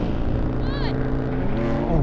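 A BMW M4 launches off the line in a drag race, its engine roar rising under an excited voice, with a quick shifting whine and the note climbing.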